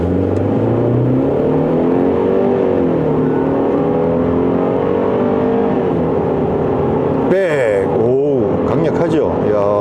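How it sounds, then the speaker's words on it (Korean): A Kia Tasman pickup in sport mode is held at raised revs, its engine droning, then surges into a hard launch with a rising, roaring sweep. A voice cuts in near the end. "스포츠 모드에서 이번에는 회전수를 조금 올려 가지고 그렇게 해서 급출발을 한번 해보도록 하겠습니다"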